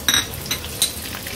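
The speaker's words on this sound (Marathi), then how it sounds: "राई आणि जिरं थोडं तडतडलं का" Hot oil sizzles up close as mustard and cumin seeds crackle and pop in a few sharp bursts.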